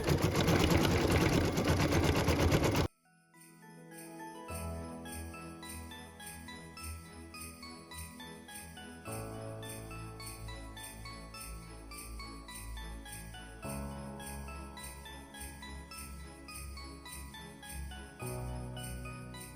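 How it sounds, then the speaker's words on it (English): A home embroidery machine stitches snow detail and fill on a Christmas ornament, a steady mechanical whir and rapid needle clatter running continuously after a loud opening burst, shifting pitch in stages as the stitching changes. "machine step 22 is stitching the snow detail and fill"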